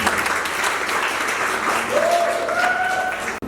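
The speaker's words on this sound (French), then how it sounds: "Je vous invite de les applaudir une dernière fois," An audience applauds a percussion group at the inauguration of an opera venue, continuous mid-level clapping with a faint rising tone creeping in over the last second before a brief dropout.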